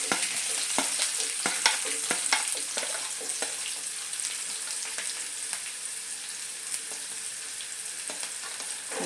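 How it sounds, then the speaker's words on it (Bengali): Chopped onion hits hot oil for a masala omelette and fries with a steady, close sizzle, broken by sharp clicks and scrapes of stirring throughout; no one speaks. "তেলটা এখানে গরম হয়ে গেছে, এবার আমি এর মধ্যে প্রথমে পেঁয়াজটা দিয়ে দিচ্ছি"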